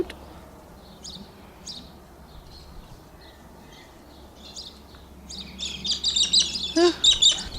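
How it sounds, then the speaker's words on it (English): A small sparrow chirps in short, faint tweets that build into a brighter, busier flurry near the end, heard close by with quiet breathing and handling in the background. "Hello, little sparrow. You're so cute."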